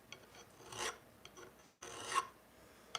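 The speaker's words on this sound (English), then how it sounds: "The file is a very crude way to polish, so you're getting a lot out of each stroke." Hand file rasping across metal clamped in a vise, two long drawn strokes separated by a brief pause, close and fairly quiet with no talking.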